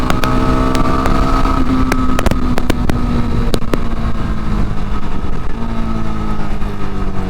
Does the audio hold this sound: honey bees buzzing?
no